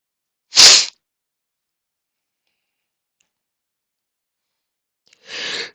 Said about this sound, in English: I didn't mean to sneeze right in your ear